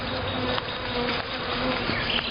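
Bees buzzing around an open beehive during a spring inspection, a steady close drone of many wings with no talk over it.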